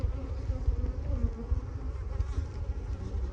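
Honey bees in a crowded, full hive drone in a dense, continuous buzz while frames are pulled during an inspection, steady and close with no talk.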